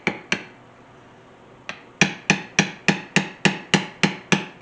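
A backgrounding tool is tapped lightly on leather in short, sharp strikes: two taps, a pause, then a steady run of about ten evenly spaced clicks, close and crisp.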